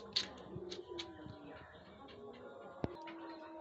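Soft pigeon coos murmur close by, with a few faint chirps and a single sharp knock near the end.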